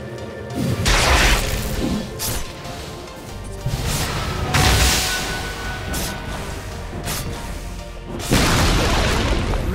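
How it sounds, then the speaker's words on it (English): In a Dota 2 match, Radiant's middle tower comes under attack and falls, heard as heavy booming crashes and impacts repeating over a dense bed of battle noise. "Radiant's middle tower has fallen."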